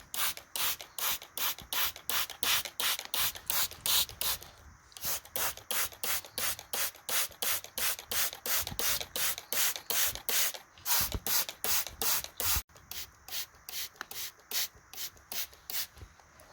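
Rapid, rhythmic bursts of water spraying from a hand sprayer onto soil around echinacea seedlings, dozens of quick hissing pulses in steady succession, close by, with a brief pause partway through.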